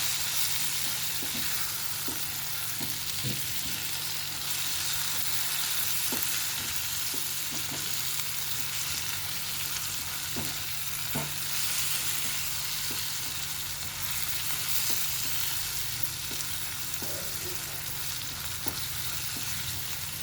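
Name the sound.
spices being stirred into frying eggplant in a pan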